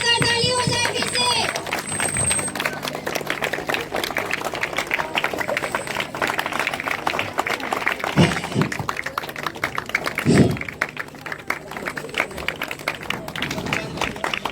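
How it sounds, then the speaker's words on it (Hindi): An audience at a school event in Lakhisarai breaks into loud, dense clapping that carries on steadily for the whole stretch, with a few sharper bursts, and voices sound faintly beneath it. "तो एक बार जोरदार ताली हो जाए फिर से।"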